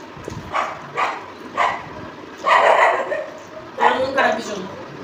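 Dogs bark in short bursts, several yips and barks spaced across the clip, somewhat distant, mixed with a voice in the background.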